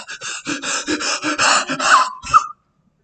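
An infant under one year old breathing very rapidly, a close, loud series of about a dozen quick panting breaths in steady rhythm that ends with a squeaky gasp, then silence.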